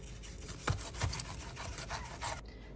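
A knife slicing the top off a pineapple with a rough, rasping cut, a couple of firmer crunches partway through, close and fairly quiet, with no talking.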